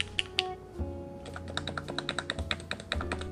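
Keystrokes on a TOMO mechanical keyboard built in a stiff top-mount configuration, a quick run of sharp, close clacks in an uneven typing rhythm with a few louder bottom-outs, no voice present.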